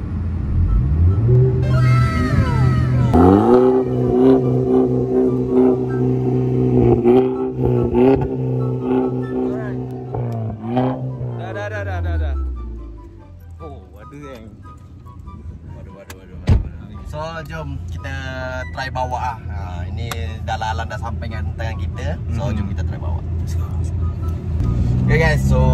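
Engine of a young man's first car idling and revving up close, then settling into a lower rumble as a door and interior sounds intrude, while people talk over it throughout.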